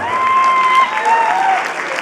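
Loud crowd applause for a Hawaiian band after a performance, steady dense clapping close up, with a held tone ringing faintly underneath.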